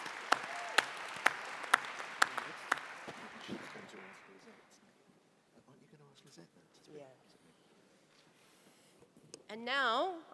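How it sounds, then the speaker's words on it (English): Delegates in a plenary session of the ITUC World Congress applaud, a thick round of clapping with a few sharp claps on top that tapers off over several seconds, followed by quiet and then a speaking voice. "So give them one more round of applause."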